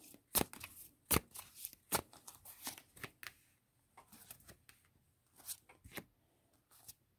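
Tarot cards being shuffled by hand for a cross-spread reading, a run of crisp riffling bursts and soft slides, close and fairly quiet, with no talking.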